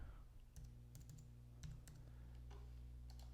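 Quiet keystrokes on a computer keyboard as a username is entered, a few scattered taps over a low steady hum, with no talking.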